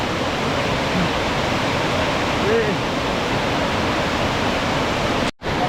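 Water pours from a waterfall in a Kerala forest as a constant, close, full rushing roar, cutting out briefly just before the end.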